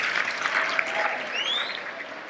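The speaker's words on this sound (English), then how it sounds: "let's give them a big round of applause for being here today." Audience applause at a community salute event honoring service members, a steady wash of clapping heard from a slight distance, with a faint whistle rising near the end.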